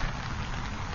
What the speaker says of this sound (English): It's raining a little bit out here